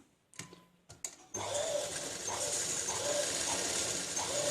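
Sewing machine running steadily while stitching a curved seam on chudidar pants, a continuous close whirring hum after a few brief starts, with no talking.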